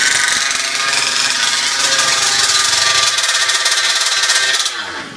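A 5th-scale RC petrol engine buzzes at half throttle during break-in, a loud, raspy, steady two-stroke whine that holds for several seconds before dropping off sharply at the end.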